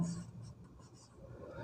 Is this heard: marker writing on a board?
yes